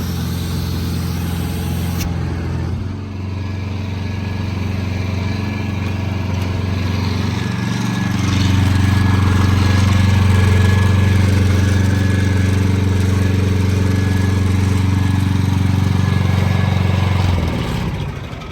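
An engine-driven pump sprayer runs steadily and loudly up close, its drone shifting into a stronger, fuller hum partway through before cutting back near the end.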